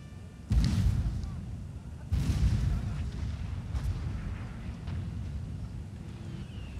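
Artillery fire in a Napoleonic battle video game between France and the United Kingdom at Antwerp: two heavy, booming cannon blasts a second and a half apart, each trailing a long rumble, with fainter distant shots afterward.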